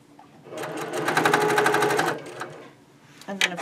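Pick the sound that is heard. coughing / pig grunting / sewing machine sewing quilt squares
sewing machine sewing quilt squares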